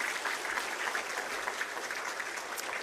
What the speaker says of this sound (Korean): 우리 모두를 바로 지금 이 순간까지 지켜주시고 인도해 주신 우리 에베네스를 하나님 앞에 우리 영광의 박수 한번 올려드렸으면 좋겠습니다